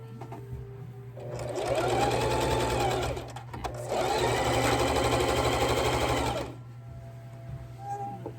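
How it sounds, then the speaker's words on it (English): A sewing machine stitches a wallet in two sustained runs of rapid, steady mechanical whirring separated by a short pause, loud and close over a faint constant hum. "So I'm gonna start out on this side and stitch all the way down. Let me get my machine here ready."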